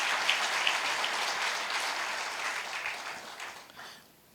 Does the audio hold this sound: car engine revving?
no